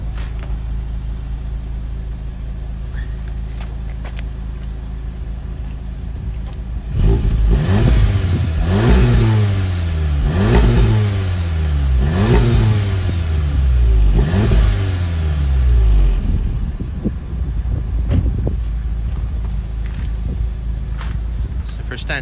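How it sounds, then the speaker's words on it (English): A Volkswagen Golf R 2.0 TSI with DSG gearbox and Stage 1 remap, warmed up, is revved about five times in quick succession, each loud rise and fall rasping close by between quieter idle. "Just because the car's up to temperature, we'll give it a little rev."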